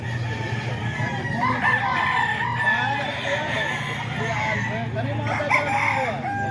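A banded rooster crows near a farm setting in San José del Monte, Bulacan, its long strained calls overlapping with other crowing and clucking chickens, loud and close, with a busy backdrop of fowl.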